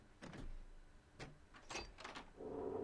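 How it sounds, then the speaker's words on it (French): Hospital door in The Last of Us being unlocked, heard as a few quiet mechanical clunks and a short scraping slide, then a low hum, faint and close. "Et aussi la porte à débloquer."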